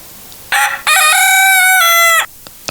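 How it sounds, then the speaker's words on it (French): A rooster crows once, loud and close, one long harmonic call with a short opening note, in a kitchen with no talk during the call. "Non, c'est le coq."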